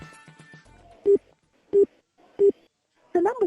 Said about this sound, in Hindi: ले फोन भी नहीं लग रही।